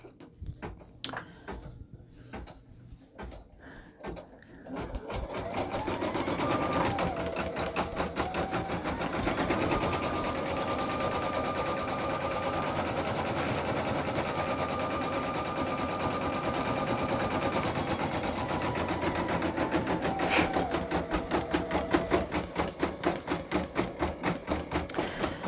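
An embroidery sewing machine stitches a design onto a hooded towel: after a few seconds of scattered clicks and handling, a fast, steady mechanical chatter runs loud and continuous close by, with shifting whine as the pattern changes and no talking.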